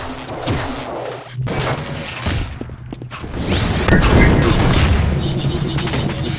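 Rocket explosions in Half-Life 2 Deathmatch on a competitive map, heavy booming blasts and crashing impacts in a dense, loud game mix, with a big burst about four seconds in that rumbles on.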